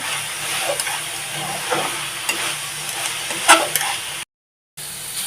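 Sweet coconut filling with sugar and cardamom for milk puli pitha, stirred in a pan: steady low sizzling with intermittent spoon scrapes and one sharper clink, ending in a brief cut to silence.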